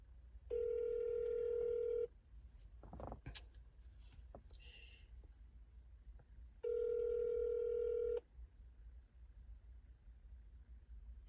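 A telephone ringback tone on an outgoing call sounds twice in long steady electronic bursts, clear and close, with a brief clatter of handling between the rings and no talk.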